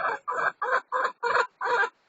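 Chickens clucking, six short loud clucks in a regular rhythm with brief silent gaps, close by and alone without talk.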